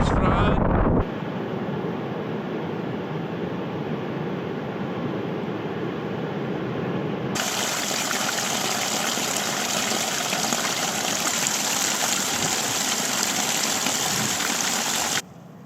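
Mountain water gushing down like a natural shower on a wild cliff trail in Donegal, a steady, loud rushing wash that swells noticeably stronger partway through, with wind buffeting the microphone.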